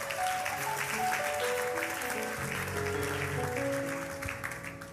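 A church congregation applauds during a Sunday worship service, a steady dense wash of clapping filling the hall for the whole stretch, with faint sustained tones ringing beneath it and no speech over the clapping.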